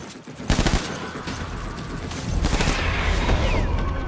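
Gunfire in the video game Death Stranding: a loud burst around the half-second mark, then sustained rapid firing that swells louder in the last second and a half, with no talking.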